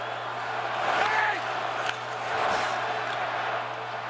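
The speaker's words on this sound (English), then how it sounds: "You can hear them chanting now" Hockey arena crowd at the Pengrowth Saddledome chanting during a 2007 Red Wings–Flames playoff game, a rhythmic swell of many voices rising and falling twice over a steady arena hum, fairly distant.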